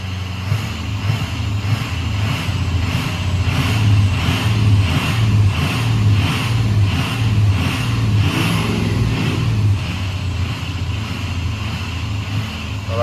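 A rebuilt Ford Powerstroke diesel engine idles steadily to warm up before an oil change, a loud, continuous low rumble with a faint regular ticking pulse and no talk over it.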